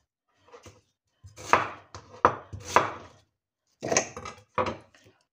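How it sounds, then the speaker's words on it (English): A knife chops an onion on a cutting board with about seven crisp, irregular strikes in two close clusters, clear and nearby with no talking. "So I have one onion I'm gonna cut"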